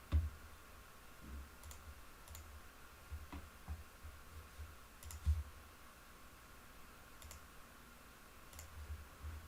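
Sparse mouse clicks sound during work in Revit architectural software, a few sharp isolated ticks spread over a steady faint hum, with no talking.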